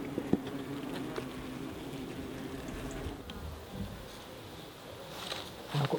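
Honey bees buzzing around a hive during beekeeping, with supers being cleaned out by the bees: a soft, steady outdoor drone with occasional faint bumps and rustles, fairly quiet and without talk.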